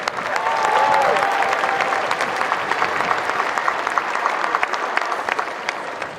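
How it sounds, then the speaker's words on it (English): A large crowd at a university spring commencement applauds the faculty seated in the front row, a steady, full wash of clapping with a few cheers, sustained throughout. "to our world-class faculty who are down in the front row here, a round of applause"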